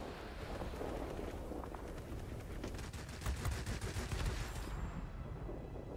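Rapid aircraft gunfire from the World of Warplanes combat game, bursts of machine-gun fire over a steady engine and wind roar, moderately loud with no talking.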